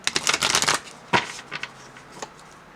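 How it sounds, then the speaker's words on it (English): Thin tarot cards with chipped corners being shuffled, a crisp rapid riffle of flapping card edges up close, then a sharp snap and a few scattered softer shuffles as the deck settles, with no talking. "These are slightly harder than the heart-shaped cards to shuffle, and that's why the corners are all chipped up."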